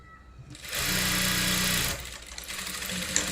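A sewing machine stitches lace onto a plain saree in one short, steady, close whirring run of about a second, with quiet handling sounds before and after.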